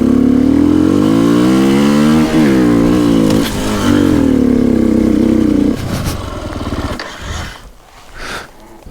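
A Japanese enduro motorcycle roars close by while riding off-road, the engine revving up and down at high load, then the note drops and sputters into rougher, uneven bursts toward the end.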